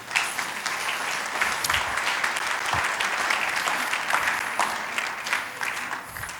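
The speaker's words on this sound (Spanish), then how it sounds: "Dale un fuerte aplauso a tu Señor." A church congregation applauds loudly and steadily during a service, a dense continuous wash of many hands clapping up close with no talking.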